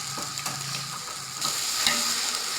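Onions sauté in a pan for a chicken dum biryani, sizzling continuously while a utensil stirs them, close and fairly loud, with no talking.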